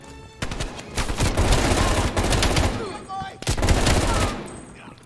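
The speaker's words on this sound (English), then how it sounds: "We are still under heavy fire" Heavy gunfire in Call of Duty: Black Ops Cold War, loud dense bursts of automatic weapons fire and shots in rapid clusters, with a brief lull in the middle before another barrage.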